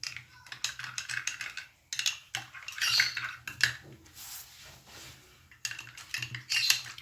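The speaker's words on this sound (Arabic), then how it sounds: "وغادي نحركو مزيان" A spoon stirs a marshmallow mixture in a pot, making intermittent bursts of scraping and clinking against the metal, fairly quiet and close, with no voices.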